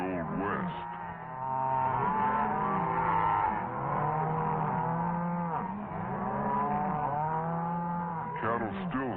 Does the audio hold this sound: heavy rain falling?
no